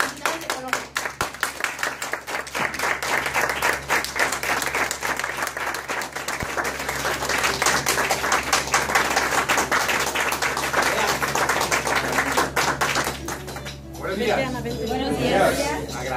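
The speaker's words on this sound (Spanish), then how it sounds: "quiero que le demos un fuerte aplauso" An audience at a business event claps loudly and steadily, a continuous wave of applause with scattered cheers. A speaker's voice comes in near the end as the clapping dies down.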